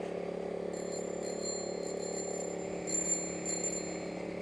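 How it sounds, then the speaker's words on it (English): A bicycle bell rings in several quick bright dings, spaced in short bursts, over a low steady hum of traffic or road noise with no talk. "Gotta love that bell."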